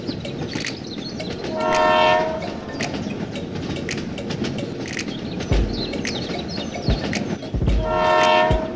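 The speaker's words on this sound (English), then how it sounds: "The train continues to the next station." A train rumbles along with rhythmic clickety-clack, sounding its horn twice in loud blasts as it moves off.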